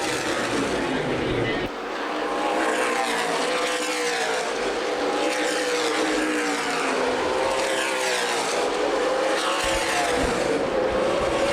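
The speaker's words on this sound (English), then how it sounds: "Tommy St. John racing with Mingus for the 4th position." CRA Super Series stock cars race at Winchester Speedway during a 100-lap event, their engines a continuous loud roar that rises and falls as they pass, under steady race commentary.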